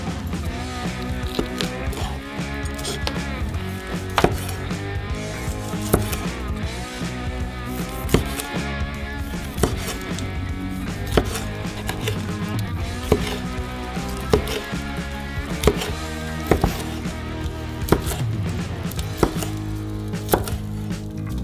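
A knife chopping food on a cutting board, with repeated firm knocks at a steady uneven pace over a busy kitchen background and no talking.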